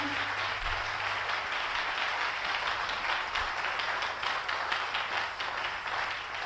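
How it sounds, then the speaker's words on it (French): A church congregation applauding during a sermon: steady, continuous clapping from many hands throughout, moderately distant and fairly even in loudness, with a low hum underneath. "Applaudissez pour le Seigneur."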